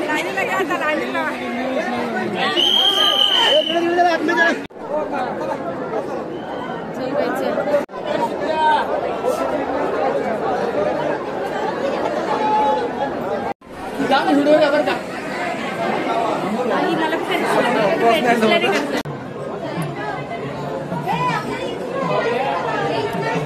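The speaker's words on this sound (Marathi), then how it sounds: "आणि गर्दी बघा किती इकडे." Dense crowd chatter on top of Jejuri fort, many overlapping voices and children's cries filling the space steadily, with brief dips and a louder burst partway through.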